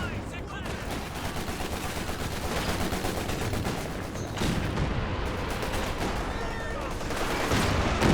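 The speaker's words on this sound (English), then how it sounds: "that's a nasty Katyusha barrage coming in really close for that one" Katyusha rocket barrage in Company of Heroes 2, a sustained roaring wash of launches and explosions landing close, layered with scattered gunfire and a voice talking over the noise.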